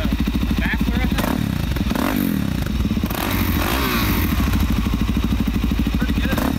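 A loud 2019 Suzuki DRZ400 supermoto engine, running without its exhaust baffle, idles close by with a raw, rapid, throaty putter, the blat rising briefly as the throttle is blipped.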